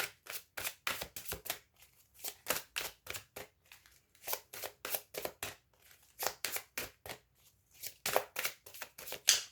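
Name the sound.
shuffling tarot cards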